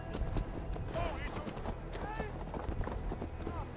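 Horse hooves clip-clop at a steady trot through a town in Assassin's Creed Valhalla, rhythmic and fairly quiet, mixed with game ambience while someone talks over them.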